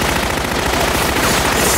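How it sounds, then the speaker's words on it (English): A Tommy gun fires in a sci-fi scene against the Borg, a loud, dense, continuous burst of rapid automatic shots that fills the whole stretch with no pause and no talk. "The Borg don't adapt to projectile weapons, so you can shoot them with a Tommy gun"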